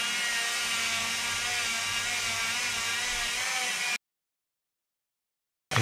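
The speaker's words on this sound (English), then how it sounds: "I'm going to use a flat disc Dremel which has got a wire brush attachment onto it" A flat wire brush disc on a Dremel whirs steadily as it scrubs a motorbike brake caliper, giving a bright, close, high-pitched grinding whine for about four seconds before it cuts out.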